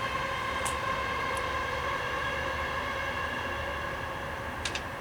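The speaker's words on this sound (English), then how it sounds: "Oh, Train." Train passing with a steady, loud rumbling roar and tonal rail whine, continuous for about five seconds, with a couple of brief high squeals near the start and end, and no voices.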